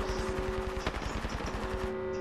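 Select-fire weapon bursts in the video game Apex Legends, rapid evenly spaced automatic shots rattling off in a continuous string with a brief hitch midway, fairly close and clear.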